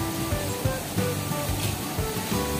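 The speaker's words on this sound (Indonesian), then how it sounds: "Ini air terjun juga kan." Nungnung waterfall in Bali, a steady broadband roar of falling water heard from nearby, continuous and fairly loud with no talk.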